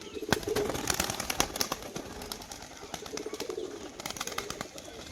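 Soft cooing from a bonded pair of breeding pigeons in a loft, low murmurs coming repeatedly over a busy background with occasional wing flutters and sharp knocks.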